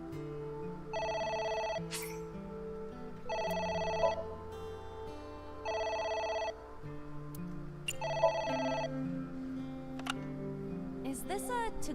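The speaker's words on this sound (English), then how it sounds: "The phone is ringing." Phone in the video game AI: The Somnium Files rings in four evenly spaced electronic bursts over soft game music, clear and close.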